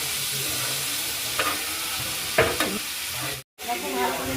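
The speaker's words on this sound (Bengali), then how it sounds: "সব লবণ হলুদ দুধ দিয়ে দিয়ে ভালো করে নেড়ে নেব" Red cucumber pieces are stirred in a pan with salt, turmeric and milk: steady scraping and sizzling with a few sharper spoon strokes, and a brief dropout near the end.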